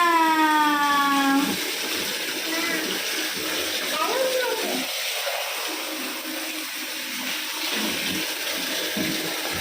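Shower water runs steadily throughout while a cat is bathed, a brief rising cry in the opening seconds before the spray settles into a constant hiss.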